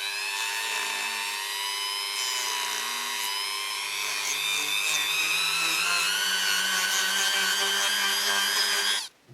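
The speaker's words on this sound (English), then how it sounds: "I'm going to grind away some of that length at the top with my Dremel" A Dremel rotary tool grinds down plastic action figure arms with a steady, high, whining buzz, held close and loud without pause before cutting off abruptly at the end.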